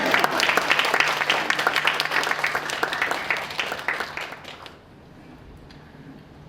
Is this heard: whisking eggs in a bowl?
no